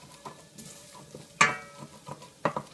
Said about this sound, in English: You want to stir it constantly so it's not sticking.